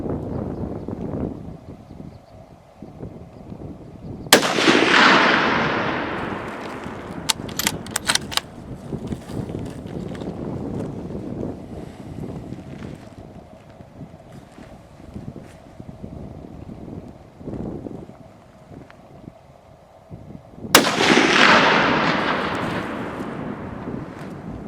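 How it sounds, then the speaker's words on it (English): Two loud rifle shots fired at a 300-meter target through grass on an outdoor range, each a sharp blast with a long rumbling decay, separated by wind noise and faint handling sounds. "300 meters. Man, shooting through grass."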